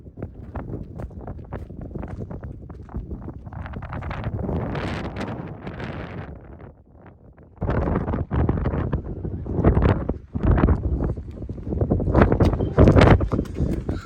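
Strong gusting wind at Zabriskie Point in Death Valley roars and buffets the microphone loudly in uneven surges, briefly easing before gusting hard again.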